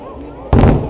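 Fireworks burst in the rain at an outdoor display, a single loud boom arriving abruptly after quiet crowd murmur and then rumbling on briefly.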